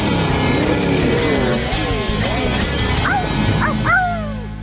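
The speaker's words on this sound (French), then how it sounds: "j'entends quelque chose. C'est lui, c'est mon toutou." A cartoon puppy from Blaze and the Monster Machines, trapped in a bottle, gives several high, close yips and whimpering cries over a busy animated background.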